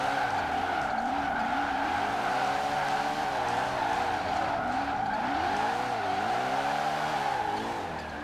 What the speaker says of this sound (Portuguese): Mas tá dando pra fazer drift de boa com ele sim.